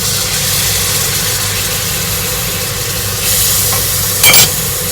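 Coconut cream poured onto fragrant Thai curry paste with shallots in a hot pan, a steady low sizzle with stirring scrapes and a brief louder splash near the end, no talking.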